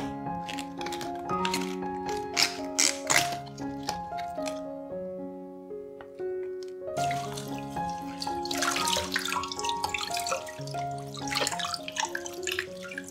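Water runs from a kitchen tap as cabbage leaves are washed, a steady close splashing with drips and handling, heard under a soft melodic music track.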